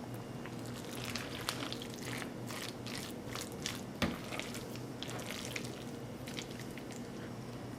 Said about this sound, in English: we're gonna mix this up again and just fold that in.